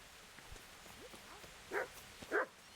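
Dog barking in the medieval game Kingdom Come: Deliverance, two distinct barks with a short gap between them, moderately loud against a quiet ambient background with faint distant noises.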